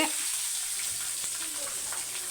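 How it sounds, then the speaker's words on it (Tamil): Mustard seeds, curry leaves, a dried red chilli and garlic cloves frying in oil, a constant close hiss with faint scattered crackles at a low, even level, no voices. "கடுகு பொறிஞ்சோடனே கருவேப்பிலை ஒரே ஒரு காஞ்ச மிளகாய் ஒரு அஞ்சு பல் பூண்டு"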